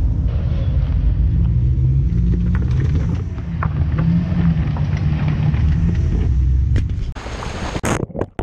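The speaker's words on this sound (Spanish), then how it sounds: "aquí vamos siguiendo la caravana de los Jeep Wranglers" A Jeep Wrangler Rubicon crawling slowly along the rocky Rubicon Trail in a convoy, a continuous loud low engine rumble with wind buffeting, ending in a few knocks and clunks.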